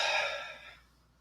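A single audible exhale during a standing chakra meditation, close and soft, a breathy rush that fades out within about a second, with no speech.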